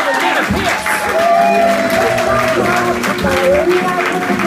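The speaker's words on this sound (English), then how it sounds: "Please get that round of applause going." Audience applause at a stand-up comedy show in the Rhino Room as the comedian is welcomed, a steady roomful of clapping with some cheering, while music and voices carry through underneath.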